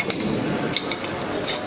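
Metal clinks and taps from a wrench loosening a part on an automatic steamed bun machine, several sharp ringing hits scattered over a dense, noisy workshop background.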